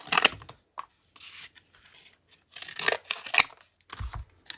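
Scissors snip through a strip of paper in a few short crisp bursts with brief rustling between, close and fairly quiet, no voices.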